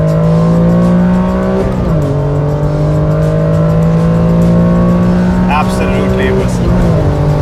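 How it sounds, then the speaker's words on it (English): Honda NSX 3-liter V6 VTEC engine revving high under load, a loud sustained tonal howl with quick shifts dipping and climbing in pitch, captured close from inside the car with a voice briefly talking over it. "So this car has a 3-liter V6 VTEC."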